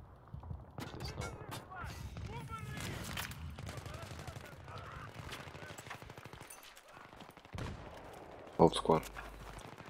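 Gunfire in a multiplayer military shooter game, bursts of rapid shots and scattered single cracks through the clip, mixed under ongoing team voice chat, with a louder close volley near the end.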